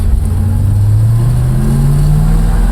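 A 1956 Chevrolet Bel Air 210 engine pulls through a corner on a test drive in second gear, a loud, steady mid-pitched drone rising slowly in pitch as the car accelerates, heard from inside the cabin.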